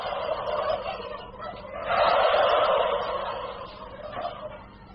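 A flock of breeding turkeys on a large poultry farm gobbles continuously, a loud dense chorus of overlapping calls with a swelling peak in the middle.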